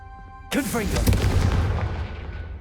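Confringo explosive spell in Hogwarts Legacy, a single sharp loud blast that bursts in suddenly and rolls into a rumbling decay lasting a couple of seconds.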